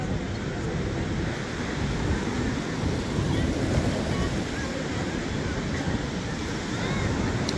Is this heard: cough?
no